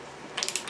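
Torque wrench clicking as it tightens the centre nut to 48 foot-pounds on a Triumph Bonneville, a few quick close ratchet clicks in a short burst after a brief quiet moment.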